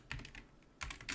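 Quick typing on a computer keyboard, two short bursts of close key clicks separated by a brief pause, quiet and alone.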